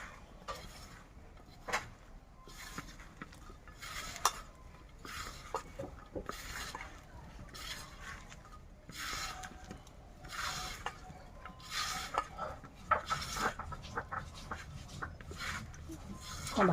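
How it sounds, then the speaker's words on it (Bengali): Drumstick flower fritter batter with ground spices is worked by hand in a bowl, making soft rhythmic squelches and scrapes, faint and close, repeating steadily. "তো সমস্ত উপকরণটা আমি ভালো করে মিশিয়ে নেব।"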